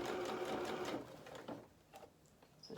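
A sewing machine running at slow speed stitches a ruffle onto a doll's pinafore, a quiet, close mechanical whirr that is strongest at the start and then tapers off into softer, intermittent stitching.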